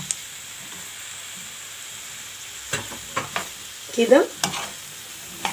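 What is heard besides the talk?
sausage frying in pan with tomato, onion and garlic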